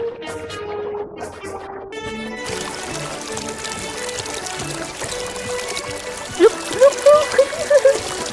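Water splashes and pours as a girl heads into a river to bathe in a Hindi cartoon, a continuous rushing, trickling wash with music-like tones at the start and a voice briefly heard near the end.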